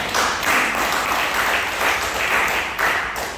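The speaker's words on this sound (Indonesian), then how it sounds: "Yang percaya tepuk tangan bagi Tuhan." A church congregation at a Sunday worship service breaks into applause, a steady wash of many hands clapping in loose waves that swell and ease, fairly close and full, with no speech over it.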